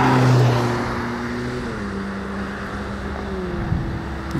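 A Rolls-Royce car at the Gumball 3000 rally in Calais drives past with a loud engine whoosh at the start that fades into a lower steady rumble and wind noise, with no voice over it.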